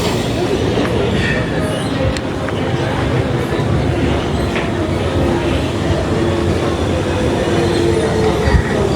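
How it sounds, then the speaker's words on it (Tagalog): A London Underground train rumbles steadily throughout, with a continuous loud roar of wheels on track and faint squeals, no clear voices above the noise. "MRT."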